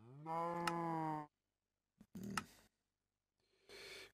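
Cows mooing in the Minecraft video game, three separate loud moos, one long and steady, the others shorter, with silent gaps between them.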